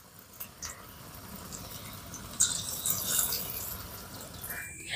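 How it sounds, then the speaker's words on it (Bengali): Potato and onion pakoras deep frying in well-heated oil, a steady close sizzling crackle that swells partway through and keeps going without pause, with no talking. "সব পকোড়াগুলো একই রকম ভাবে ভেজে নিচ্ছি, আর তেলটা কিন্তু অবশ্যই ভালো করে গরম করে নিতে হবে।"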